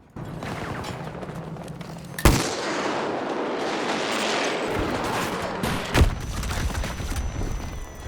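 Video-game gunfire in a vehicle duel, a loud close-range shot cracking out twice amid sustained engine roar and rumbling battle noise.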